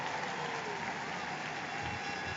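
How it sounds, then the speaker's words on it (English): Applause ringing around Lord's cricket ground at a women's Ashes T20 match, a dense, steady wash of distant crowd clapping heard from the commentary position. "That's the applause around the ground"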